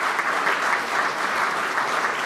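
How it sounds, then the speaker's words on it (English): A meeting audience applauds invited guests in a sustained, even round of clapping, fairly loud and steady from start to finish with no speech over it. "Let's all give them a rousing round of applause."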